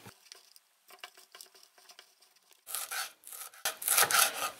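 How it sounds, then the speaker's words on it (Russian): Cheese rasps over a coarse grater in a home kitchen, first in soft, spaced strokes, then in louder, faster rubbing passes that build toward the end. "Сыр натираем на крупную терку."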